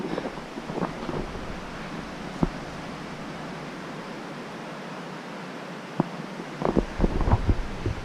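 The Pemigewasset River rushes steadily beside a shaded spot just off a hiking trail, a continuous broadband wash with a few faint knocks and a livelier swell near the end.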